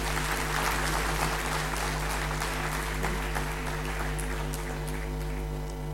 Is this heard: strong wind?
no